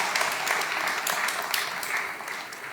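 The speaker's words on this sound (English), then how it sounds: "I think that deserves another round of applause" Audience applause at an excellence awards celebration, a steady wash of clapping from a crowd lasting the whole stretch, fairly far off and even in level, with some voices mixed in.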